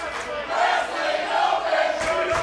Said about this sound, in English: the crowd letting them know whose side they're on for this one